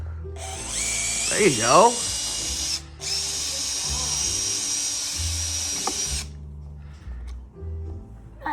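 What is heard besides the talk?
power drill unscrewing door hinges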